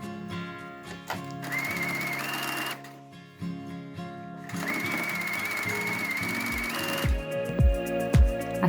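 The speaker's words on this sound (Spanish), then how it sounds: "Levantamos el pie prensatelas, giramos la tela y seguimos cosiendo." A sewing machine stitches fabric around a corner on a tablecloth project, running in two loud whirring bursts separated by a brief pause while the cloth is turned, then a few soft clicks and taps close by.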